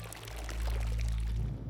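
Water poured into a sample container for lab testing, a brief soft splashing pour over a low background hum.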